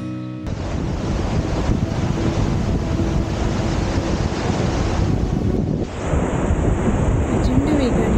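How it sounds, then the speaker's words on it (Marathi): The Kalu River plunges over a cliff at Kalu Waterfall, a loud, dense and unbroken roar of falling water, buffeted by gusts of wind against the microphone. "प्रचंड वेगाने काळू नदीचं पाणी या कडेवरून खाली कोसळतं."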